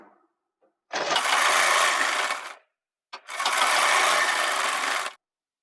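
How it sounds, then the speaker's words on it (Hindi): A sewing machine runs in two steady bursts of rapid stitching, each about one and a half to two seconds long, as it sews baby pajama fabric, close and loud with a brief silence between runs. "यहाँ पर जो हमने मार्क किया हुआ था यहाँ से हम सिलाई को स्टार्ट करेंगे।"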